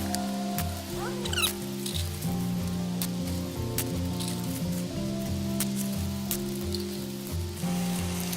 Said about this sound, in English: Already here it's sizzling.